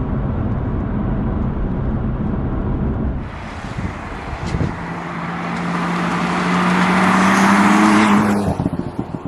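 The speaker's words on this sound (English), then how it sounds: "I just love the way this car drives." A BMW M3/M4 drives along, a steady engine and road rumble that swells into a louder, brighter roar with a sustained tonal drone for several seconds before easing off.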